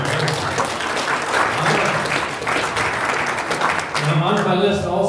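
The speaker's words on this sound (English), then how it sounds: "Round of applause." Rotary club meeting members give a loud, sustained round of applause, dense clapping from a nearby crowd with voices mixed in.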